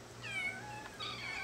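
A cat meows twice in quick succession, fairly close, with a steady low hum of room noise underneath.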